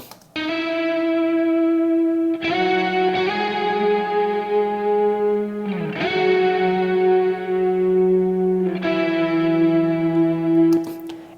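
A distorted, echo-drenched electric guitar counter melody in a folk-rock arrangement plays long sustained notes over shifting chords, loud and steady with reverb tails between phrases.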